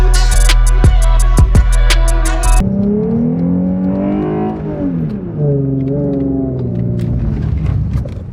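A car engine revs and drones through drifting turns in a racing game, its pitch rising and falling in smooth sweeps after a brief burst of loud clattering hits at the start.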